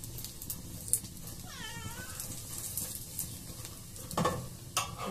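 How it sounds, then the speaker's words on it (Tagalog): A pet cat gives a few faint, drawn-out meows close by, set against a constant background of sizzling and stirring from frying food in a kitchen. "Ito na naman yung aking pasaway na alaga. Nagangawa na naman."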